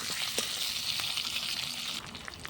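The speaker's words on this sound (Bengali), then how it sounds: "পেঁয়াজের সাথে আলুগুলো দিয়ে দেবো, ভেজে নেবো। তাহলে আলুটাও ভাজা হবে, পেঁয়াজটা ভাজা হয়ে যাবে।" Potatoes and onions frying in a pan over a clay stove give off a steady, close hiss of sizzling oil with a few soft crackles, unbroken throughout and with no voices.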